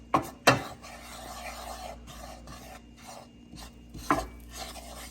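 A utensil scrapes and rubs flour across a pan over medium heat as it browns, in close, irregular strokes with a few sharper knocks against the pan and no speech.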